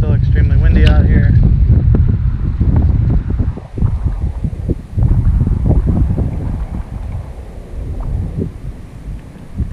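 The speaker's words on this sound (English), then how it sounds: "It's still extremely windy out here." Strong wind buffets the microphone in heavy, roaring gusts that rise and fall while fishing outdoors, with a voice briefly heard at the start.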